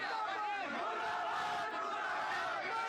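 A large crowd of Hindu protesters gathered on a street, a dense roar of many voices and shouting that holds steady and loud throughout.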